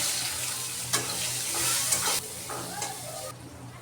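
Chopped onion and green chillies hit a pan where fish has been frying, giving a close, busy sizzle with sharp crackles that eases off toward the end.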